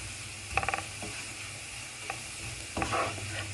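Onions fry in a pan for Egyptian yellow lentil soup, a steady close sizzle broken by a few metallic scrapes and clinks of stirring, with no voices.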